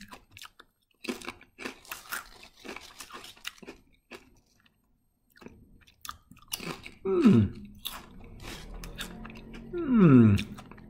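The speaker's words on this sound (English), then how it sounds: "I quite like those. It's a good crisp. It's a good crunch." Lay's Fromage cheese-flavoured potato crisps being bitten and chewed up close, with bursts of crunchy mastication, a rustle of the bag, and brief appreciative murmurs between bites.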